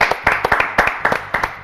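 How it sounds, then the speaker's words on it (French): A studio audience on a French television show applauds a singer. Brief, quick, rhythmic clapping from a group of people is heard close by. "Martha, applaudissements pour Martha."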